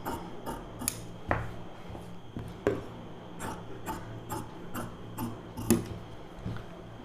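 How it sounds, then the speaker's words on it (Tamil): Scissors cut a V-shaped neckline into blouse fabric, with irregular crisp snips and rasping crunches, some in quick pairs and others spaced apart, heard close and without talk. "இப்போ வந்து இந்த வி ஷேப் கட் பண்ணிக்கலாம்"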